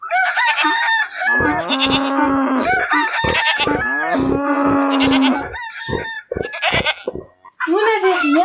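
Rooster crowing in a farmyard scene, several loud strained crows in quick succession, close and prominent, with a cow lowing among them.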